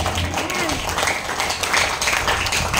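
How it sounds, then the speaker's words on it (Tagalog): Congregation applause at a church worship service, a continuous, moderately loud patter of clapping under a dense layer of crowd noise, running throughout. "Grabe po yung palakpak mo."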